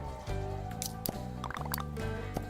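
Plants are watered in the Hello Kitty Island Adventure video game, with soft dripping, squishy liquid sounds playing over steady, tonal game music.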